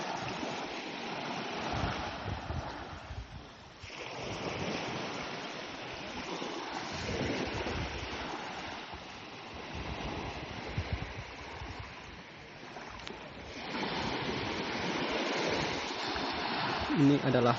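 Sea water washes continuously at the white-sand beach of Palamba Island, a rushing, surging wash that swells and eases, with wind-like noise mixed in.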